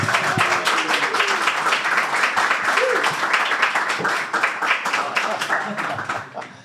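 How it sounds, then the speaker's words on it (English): Studio audience applause greeting the Second Tier Podcast, a football Championship show: dense, sustained clapping loud throughout, with some voices mixed in, tapering slightly at the end. "can we have a round of applause for the Second Tier Podcast,"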